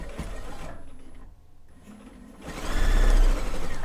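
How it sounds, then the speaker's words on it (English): Sewing machine machine-stitching quilt binding: a rapid mechanical whir that dips to a near pause midway, then picks back up and grows louder and busier, with no talking. "if you're machine stitching your binding down completely"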